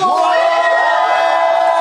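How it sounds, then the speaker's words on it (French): Wedding guests in Rennes cheer, whoop and shout together in a loud, continuous crowd ovation that fills the whole moment with sustained voices. "ce soir, sous vos ovations, nous allons accueillir Lyon Emmanuel"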